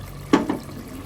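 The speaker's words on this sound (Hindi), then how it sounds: "हमने इसमें पानी डाला है जी" Water poured into a pan of potato and capsicum gravy while cooking, heard as a brief splash and sizzle of liquid hitting the hot mixture, fairly close and with no talking.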